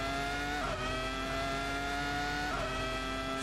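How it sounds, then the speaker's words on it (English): Ferrari V10 racing engine in the game Assetto Corsa at Monza, a steady high-pitched whine held near constant, with two quick dips as the car shifts gears; no voices. "It really sounds like a V10"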